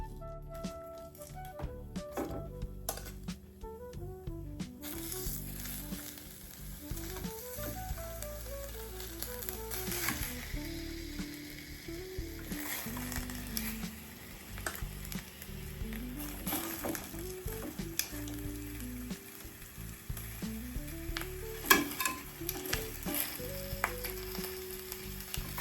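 Fish frying in a pot as the base of a pasta sauce, a steady soft sizzle running underneath a louder layer of sustained melodic tones throughout.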